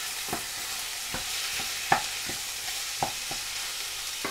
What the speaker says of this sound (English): So now we just stir this chicken